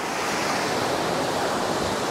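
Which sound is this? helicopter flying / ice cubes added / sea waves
sea waves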